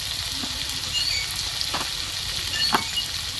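Ground salt, turmeric, coriander and chilli powder fry in a pan for a thin fish curry, giving a steady close sizzle with a few soft crackles and stirring scrapes. No voices are heard.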